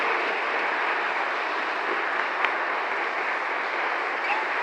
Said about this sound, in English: Can we get one more round of applause for our fabulous reed quintet,